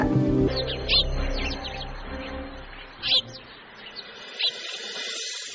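A bird calls in an animated cartoon story, a few short bright chirps spaced out over several seconds after a brief low musical swell at the start.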